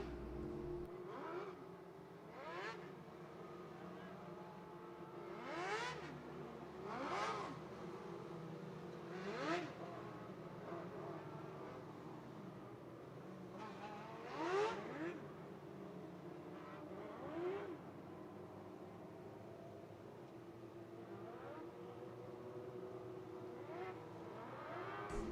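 USAC National sprint cars race around Ocala Speedway, engines droning and revving in a continuous layered whine with cars repeatedly swelling past, heard from a moderate distance, fairly faint.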